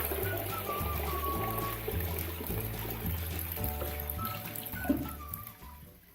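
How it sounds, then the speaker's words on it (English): A toilet flushing after a bowl cleaning: continuous rushing and trickling water close by, with a low rhythmic pulsing beneath it that tapers off toward the end, with no speech. "Don't forget to flush the toilet."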